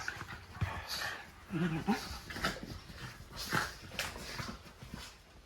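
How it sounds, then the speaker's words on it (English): Basenji dogs play on a bed, panting, whimpering and making short excited vocal yips, with rustling scuffles of bedding between them at close range. "Now that the bed's made, Basenji play."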